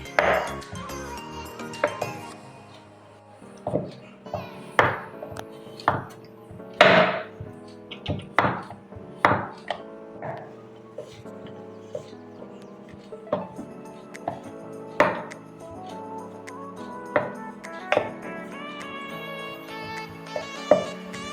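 A knife chops chocolate on a board for a strawberry and mango dessert, with crisp close taps and clinks landing one after another in an uneven rhythm and no talk.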